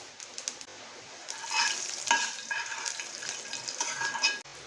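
Asafoetida hits hot tempering oil with mustard seeds and sesame for a green moong dal dhokla, the gas already off, giving a close, steady sizzle with crackling pops and a brief stir against the pan.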